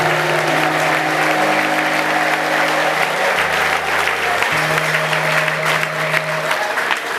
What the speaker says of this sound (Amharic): እልልታ ጭብጨባ